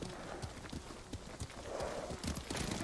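Horse hooves clip-clopping in Ghost of Tsushima, a steady run of soft hoofbeats with maybe a brief whinny, under a dense bed of game ambience and music with no speech.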